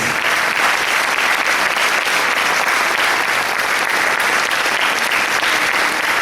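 Sustained audience applause fills a hall at a Paraguayan harp day concert, a dense, even clapping from many hands that continues loud and unbroken throughout.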